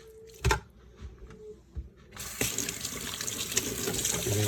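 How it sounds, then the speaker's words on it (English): Water runs from a kitchen tap to rinse raw chicken in a sink, with a few soft knocks and splashes first and then a steady, close gush of flowing water. "So give it a good rinse."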